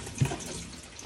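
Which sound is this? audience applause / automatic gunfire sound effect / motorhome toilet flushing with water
motorhome toilet flushing with water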